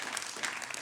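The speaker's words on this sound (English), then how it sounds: "Give yourselves a massive round of applause for coming here today." An audience at a humanist heritage talk in Northern Ireland, applauding in a brief, dense burst of clapping from a crowd.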